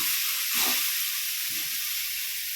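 Steady hissing sizzle fills the clip as water is poured into a hot pan while cooking tomato rice, with a few soft low thumps underneath.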